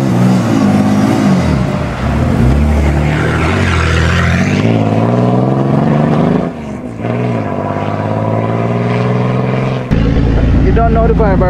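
A 2JZ-swapped Range Rover Sport drives and revs hard, its engine note rising and falling loudly over several pulls with a brief drop partway through, while people talk excitedly over it.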